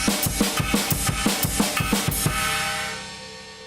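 Drum groove alternating ride, hi-hat and China cymbal strokes in a steady, even rhythm with regular low kick hits, then a cymbal wash ringing out and fading at the end.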